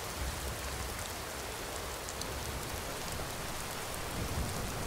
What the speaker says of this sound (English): Oh, thunderstorm.